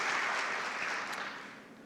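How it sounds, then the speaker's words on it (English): A conference audience at a Tennessee summit keynote gives a round of applause, a steady wash of clapping from a large hall that gradually fades toward the end. "Let's give them a round of applause for their partnership with our university."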